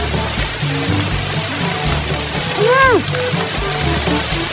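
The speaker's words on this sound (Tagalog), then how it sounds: "Ba't umulan pa kasi?" Rain falls in a steady, dense patter across the whole stretch, and a voice briefly cries out over it.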